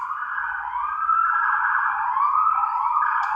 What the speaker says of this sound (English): you hear that siren in the background?